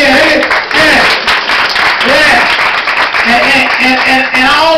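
A comedy show audience claps for a stand-up comic at a Christian comedy event, a loud, close burst of applause with scattered cheers and voices calling out over the clapping.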